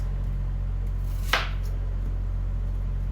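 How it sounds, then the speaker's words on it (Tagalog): A single crisp knife chop through an onion on a cutting board, one sharp stroke over a steady low hum. "Tapos I already cleaned onion before. So I'm just gonna cut the last part."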